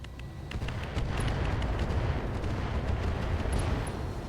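Heavy mech weapons firing in the RogueTech battle game, a dense continuous barrage of booming, rumbling blasts with sharp crackling hits layered on top, loud and sustained throughout.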